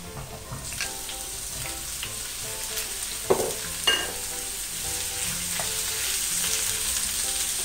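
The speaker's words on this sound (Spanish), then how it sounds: "Vamos a poner un poquito de aceite. Aquí lo voy a saltear los rebollones." Rebollones mushrooms sautéing in a little oil in a frying pan, a constant close sizzle with a few sharp clatters of stirring, building slightly louder toward the end; a faint tonal hum sits beneath.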